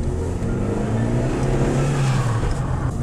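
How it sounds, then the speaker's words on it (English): A Fiat Stilo, just repaired of its electrical faults, pulls away on a road with a steady, loud engine drone whose pitch rises gradually as it accelerates, heard up close with no talking. "just taking the car for a quick little drive"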